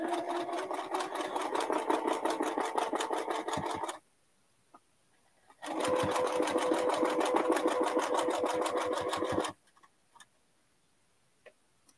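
Sewing machine stitching through quilting fabric in two steady bursts of rapid, even needle strokes, each about four seconds long and separated by a short pause, close and clear with no talking.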